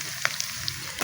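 Green chilies dropped into hot oil with cumin for a village-style sabut mash and chana daal, a short crackling sizzle with a few sharp pops over a soft frying hiss.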